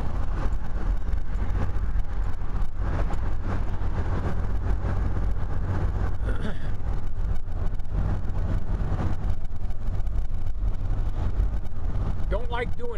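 Car interior on the way onto a highway, with steady low road and engine rumble filling the background throughout under occasional talk.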